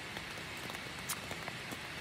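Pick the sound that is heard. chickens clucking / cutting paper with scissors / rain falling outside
rain falling outside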